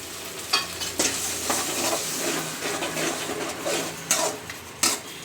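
Yogurt spice mix stirred into frying aloo gobi, the potato and cauliflower crackling in hot oil while a utensil scrapes and stirs the pan with several sharper clinks, steady and close.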